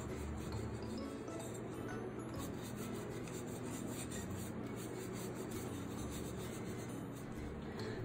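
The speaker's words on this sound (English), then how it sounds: "you're gonna just start going back and just rubbing your pot like that" A t-shirt rag rubs back and forth over a moulded flower pot, producing a soft continuous scrubbing hiss with faint rasping texture, close and quiet, steady throughout with no talk.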